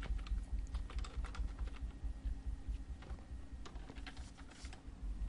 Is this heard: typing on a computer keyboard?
yes